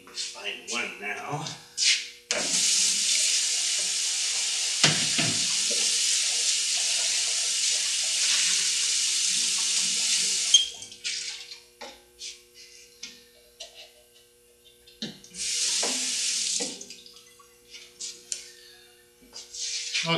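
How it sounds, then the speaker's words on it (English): Water running from a tap while hands are washed in a ceramics studio, a long steady hiss of flowing water, then a shorter second run, with clattering handling sounds between. "one of the things you're going to have to be doing all the time is washing your hands and wiping them off"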